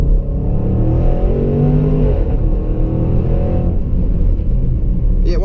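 A 2016 Range Rover Sport SVR accelerates hard, its engine a deep, loud rumble that climbs steadily in pitch, heard from inside the car.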